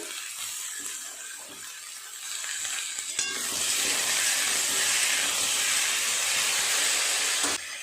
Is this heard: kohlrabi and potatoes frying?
yes